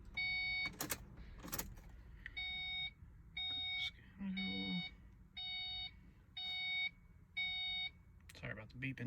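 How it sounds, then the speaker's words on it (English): Electronic beeps from a diagnostic setup on a 2005 Ford Mustang V6 with code P1233 come in a steady series of short, evenly spaced bursts, with brief talk and background noise in between. "Sorry about the beeping."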